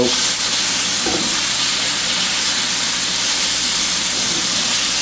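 Beef stir fry, already cut into pieces, sizzling and frying steadily in a pan with teriyaki sauce on hand, a continuous close hiss with occasional light clatter.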